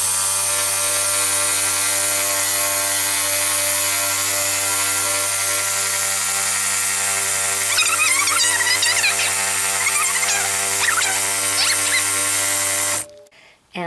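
A sewing machine quilting a pinned tote bag runs as a loud, steady motor whine with a rapid mechanical buzz, briefly overlaid by a voice, then cuts off abruptly near the end.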